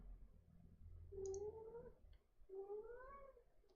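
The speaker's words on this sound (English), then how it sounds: "my cat is meowing because he wants food" A pet cat meows twice for food, two drawn-out, rising-and-falling cries close by against a quiet room with faint low background hum.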